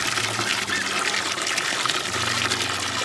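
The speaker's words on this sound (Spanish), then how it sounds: "Vamos a llenarlo bien llenito." Water gushes steadily from a hose into a tub of roughly 80 to 100 liters that is being filled for geese, a continuous close rushing and splashing sound heard on its own.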